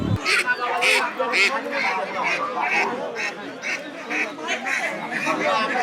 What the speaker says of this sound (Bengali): কাকাই হাঁস বিক্রি করছেন